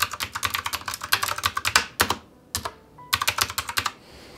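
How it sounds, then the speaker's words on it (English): A mechanical keyboard at a cozy desk setup clicks rapidly and crisply under quick typing in close bursts with short pauses between them, no voices. "It makes these awesome little clicking noises, so whenever I'm typing, I hear these little clicks."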